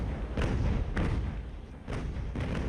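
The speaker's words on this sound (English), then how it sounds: "The HMS Alert is basically there firing cannons at everybody and everything." Repeated deep booms of cannons firing from a warship in the naval battle game Ultimate Admiral: Age of Sail, several heavy thuds in irregular succession over a continuous rumbling battle din, with no voices.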